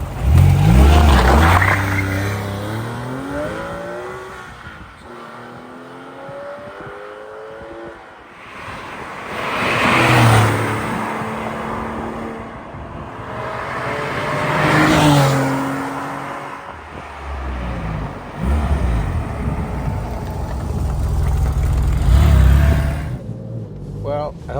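A 2004 Porsche 911 996 GT3 RS passes by several times, its engine note swelling loud as it approaches and fading as it recedes, with rising and falling revs on each pass.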